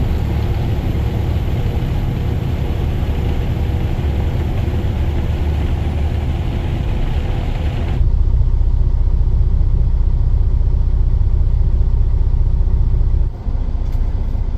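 A loaded grain truck drives along on the way to the elevator in Battle Creek, Iowa, its heavy engine rumbling steadily with road noise, then the sound cuts abruptly to a quieter, deeper drone.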